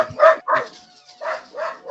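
A pet dog indoors gives a run of four short barks or yips at close range, with uneven pauses between them, heard alone.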